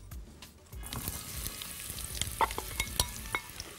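Onions, a large amount, frying in oil in a pot for a vegetable macaroni tagine, with a steady broadband sizzle and a few sharper crackles and spoon clicks standing out.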